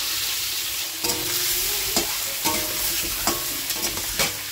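Eggs frying in hot oil in a pan give a steady close sizzle, with a few sharp scraping knocks from stirring or turning spaced about a second apart. No voices.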